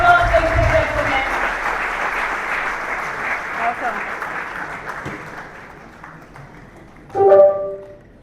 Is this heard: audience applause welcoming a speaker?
yes